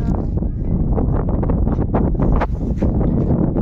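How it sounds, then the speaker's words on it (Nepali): Strong wind blows outdoors near a village washing line, buffeting the microphone in loud, continuous rumbling gusts with fluttering, flapping bursts throughout. "हावा त आएको"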